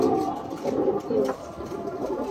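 An old rooftop pigeon coos in soft, low murmuring phrases, close by, with faint background noise and no clear talk.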